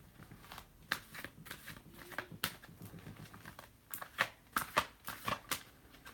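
Tarot cards being shuffled by hand, soft close riffles and sharp snapping flicks in irregular bursts, quiet and intimate with no talking.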